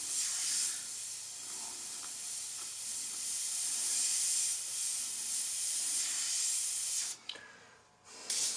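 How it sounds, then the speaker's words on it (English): A steady hiss of alcohol spraying from an airbrush runs for several seconds, fairly close, then cuts off briefly near the end before resuming. "spray more spray alcohol"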